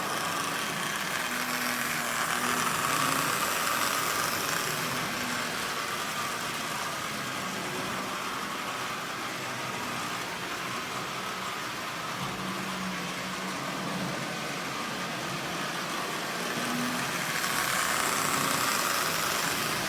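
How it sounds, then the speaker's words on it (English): A Marx 400 toy train locomotive with a double reduction motor, freshly repaired and running at half power, hauls ten heavy Lionel cars around the track in a steady, even rumbling whir that lasts throughout. "So this is a Lionel consist pulling 10 cars"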